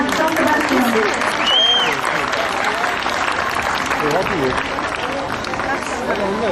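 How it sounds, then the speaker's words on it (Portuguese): A church crowd at a parish Bible walk applauds the São Sebastião community, loud sustained clapping with cheering voices and crowd chatter mixed in throughout. "Uma salva de palmas para a comunidade de São Sebastião."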